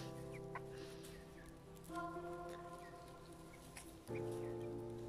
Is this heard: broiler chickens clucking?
yes